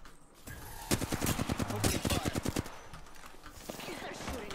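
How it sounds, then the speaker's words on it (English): Rapid gunfire rattles in a fast volley in a video game, loud and close, tapering into scattered shots, while someone talks over part of it. "They're shooting at me."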